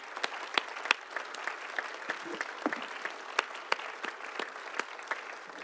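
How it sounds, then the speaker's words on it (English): Applause for the city team at a city council meeting, a modest room of people clapping steadily with a few sharper individual claps standing out, fairly close. "So big round of applause for our city team."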